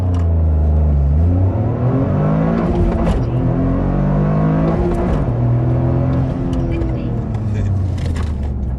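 A Toyota GR Corolla hard launch from a standstill, its engine climbing through the revs with falling pitch drops at each gear shift, loud and close, heard from inside the cabin with no talking.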